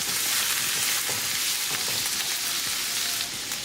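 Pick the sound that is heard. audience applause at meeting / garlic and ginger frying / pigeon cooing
garlic and ginger frying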